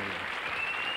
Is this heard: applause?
yes